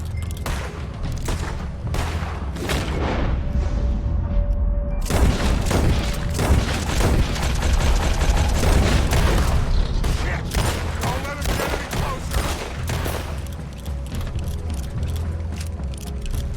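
Loud, dense gunfire from the video game Red Dead Redemption II, with rapid volleys of shots and booming blasts running almost continuously under a voice that speaks over the action.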